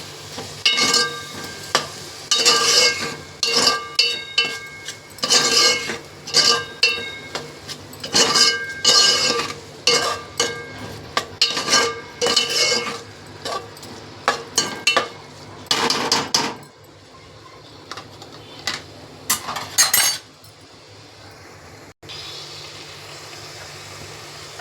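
A spoon scrapes and clinks rhythmically against a pan while a chopped onion and tomato mixture for pav bhaji is stirred and fried. The repeated strokes stop partway, and a softer sizzle carries on after.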